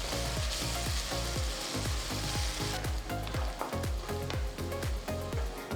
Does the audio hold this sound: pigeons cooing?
no